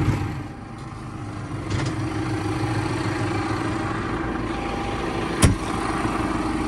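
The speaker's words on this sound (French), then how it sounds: "ça va faire un petit tour du tracteur et du cover crop" A tractor engine runs steadily while working a field with a Grégoire et Besson cover crop disc implement, a constant low rumble with a brief sharp metallic clank partway through, and no talking.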